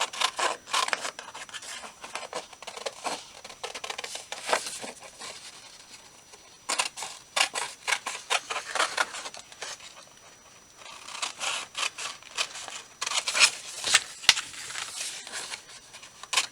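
Scissors cutting a printed paper image down to a smaller size for a journal, close rapid snipping and rustling in bursts separated by short pauses.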